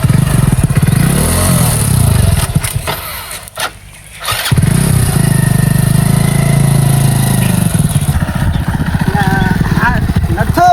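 A motorcycle engine runs nearby with a loud, rough, pulsing drone, dropping briefly before it picks up again, while people talk over it.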